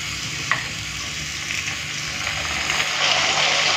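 Lightly browned potatoes fry in a pan as spice paste is stirred in and sautéed with them. A continuous close sizzle is heard with scraping stirs, growing slightly louder toward the end, with no talk.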